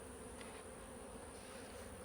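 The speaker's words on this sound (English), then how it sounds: "look at all these bees coming here" Honeybees swarm around beehive frames being moved in a new beeyard, their dense, steady hum filling the air evenly and continuously at a soft, constant level.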